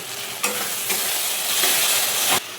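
Lote fish dropped into hot oil sets off a loud, close, continuous sizzle, with a few sharper crackling bursts over the steady hiss and no speech.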